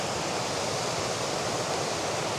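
Creek water at Tumbling Waters in Ellijay, Georgia rushes steadily and close by, a dense, even broadband roar of flowing water that holds constant throughout with no voices.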